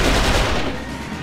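Heavy weapons fire in the video game XIII rattles in one dense, continuous, loud barrage, close and unbroken, with no voices.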